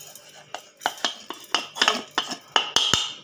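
Spices are stirred on a hot tawa, with a metal spoon scraping and clinking against the pan in irregular bursts of close, moderately loud strokes, and no voices.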